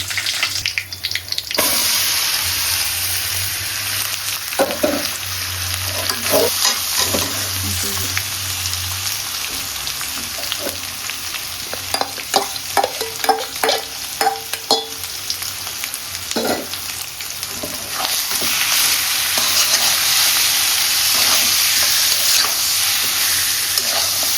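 Potatoes fry in a pan at home with a steady loud sizzle, broken by stirring scrapes and clatter midway, and the hiss surges louder toward the end.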